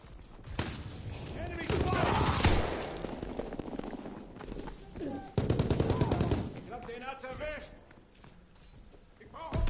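Rapid bursts of gunfire in Call of Duty WWII multiplayer crackle in quick repeated volleys, near and loud, with a voice talking over the shooting.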